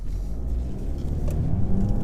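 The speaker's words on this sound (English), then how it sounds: "Engine springs to life fairly quickly." A 2017 VW Golf GTI engine starts at half throttle and quickly settles into a steady, close low rumble, with no voices over it.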